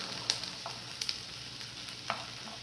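Tripe fries in a non-stick pan with a soft, continuous sizzle and a few sharp crackles and pops, faint and close with no voices.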